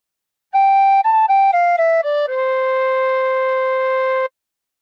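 A tin whistle plays a short phrase of La Cucaracha, several quick clear notes stepping downward and then one long held tone. Bright and pure, close and alone, with no talking.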